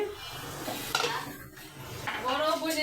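Onions and tomatoes are stirred in a pan, with a spoon scraping and clinking against the metal over a faint sizzle, close up.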